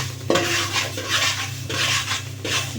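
Ragi roasting in a pan while a spoon stirs it, steady scraping and rasping strokes against the metal repeating in a rhythm, close and clear with no talk.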